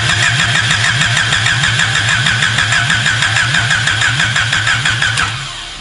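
A 1986-1987 Honda Civic Si with a swapped-in DOHC D16A1 engine cranks and fires, the starter's rapid rhythmic churning running loud and steady for about five seconds before easing off as the engine catches.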